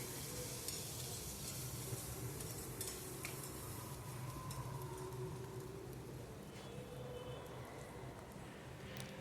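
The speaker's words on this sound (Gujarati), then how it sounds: "પછી તે બધું આપણે હલાવીને મિક્સ કરી દઈશું." Valor beans and brinjal curry are stirred in a pan with a utensil, giving a faint, continuous scraping and soft sizzle with occasional clinks, no voices.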